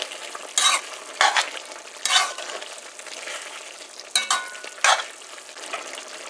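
Chicken liver and gizzards fry in a pan under a lid-covered bhunjal cook, a steady sizzle punctuated by several louder bursts of stirring and scraping, close and clear with no voices.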